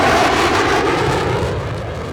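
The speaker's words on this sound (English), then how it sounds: "It's a stealth jet flying around." A stealth jet in a multiplayer conquest video game roars loudly overhead, a sustained broadband engine rumble that fades slightly as it passes.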